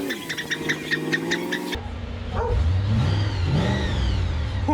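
Uncle Mark's V8 one-tonner conversion pulls in and revs, a rising throaty engine roar building after a dog barks in a rapid series of yaps at the start.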